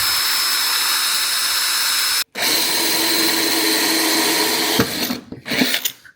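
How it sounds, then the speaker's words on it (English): A power drill bores a pilot hole through the double-skinned body panel of a Land Rover Freelander 2, a loud, steady high whine that cuts out briefly and then resumes before stuttering and stopping in short bursts. "you've got 2 skins to drill through there"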